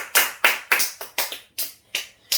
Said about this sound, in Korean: 박수로 하는 기원입니다.